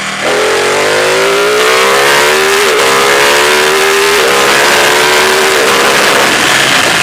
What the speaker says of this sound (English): let's do a quick demonstration of the acceleration in this quick shifter